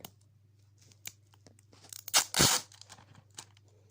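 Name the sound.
tape being peeled off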